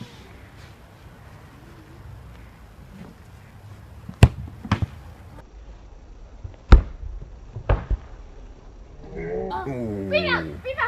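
A football struck at a Forza five-a-side goal, with several sharp impact thuds spaced across the clip amid outdoor background noise, followed by excited voices at the end.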